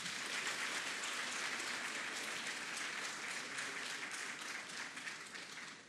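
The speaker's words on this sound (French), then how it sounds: "On applaudit pour nous montrer qu'on aime." A crowd in Abidjan, Côte d'Ivoire, applauds during Emmanuel Macron's visit, producing a dense, continuous wash of clapping at moderate distance that fades slightly toward the end.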